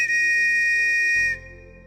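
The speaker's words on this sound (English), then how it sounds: "The ref blared the whistle, signaling the end of the match." A referee's whistle at the end of a basketball match gives one long, loud, steady blast of about a second and a quarter, then cuts off, leaving a faint low hum.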